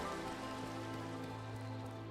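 Steady rain pattering in a Minecraft world, a soft, even hiss of falling drops with a faint low hum underneath, no talking.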